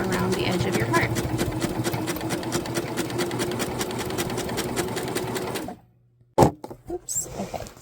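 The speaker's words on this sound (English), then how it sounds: "so you don't need to leave any gap as you sew around the edge of your part" A sewing machine stitches around the edge of a fabric heart with a fast, steady rhythmic clatter for several seconds, then stops abruptly. A few clicks and a voice follow the silence.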